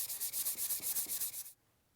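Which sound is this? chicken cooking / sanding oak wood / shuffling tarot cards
sanding oak wood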